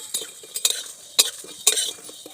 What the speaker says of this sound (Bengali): খুব ভালো করে আমি ভেজে নেব মশলাটা।